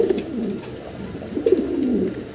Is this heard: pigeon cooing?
yes